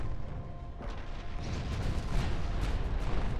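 Naval guns fire armour-piercing shells in a battlecruiser duel in Ultimate Admiral: Dreadnoughts, heard as a dense, rumbling wash of distant booms and rolling concussions that swells toward the end, with no voices.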